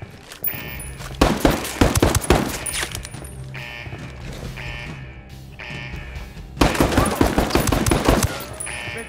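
Gunfire in the Ghost Recon Wildlands video game: two loud bursts of rapid automatic fire, a quieter gap with scattered single shots between them, then another dense volley near the end, all close and with no voices.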